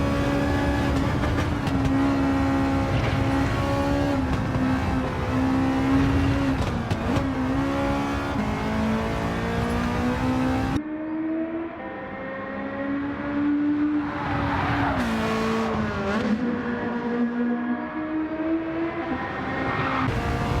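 A race car flat out on a lap in Gran Turismo 7, its engine screaming in a loud sustained whine that rises and dips through gear changes and corners.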